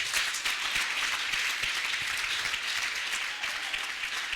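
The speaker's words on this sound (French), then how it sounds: "on peut applaudir pour le frère." An audience at a youth convention applauds, a continuous patter of clapping, moderately distant and fairly even, with no voices over it.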